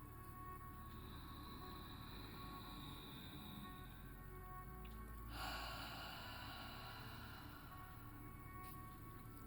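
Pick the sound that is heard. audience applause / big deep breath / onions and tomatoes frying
big deep breath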